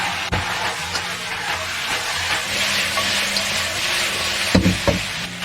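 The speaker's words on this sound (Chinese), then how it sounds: "然后淋入我们调好的酱汁。" Sauce poured into a hot pot of chicken wings, chicken feet and button mushrooms, giving a continuous close sizzle with a few sharp clatters of a utensil against the pot.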